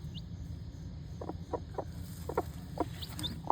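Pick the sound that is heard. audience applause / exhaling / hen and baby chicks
hen and baby chicks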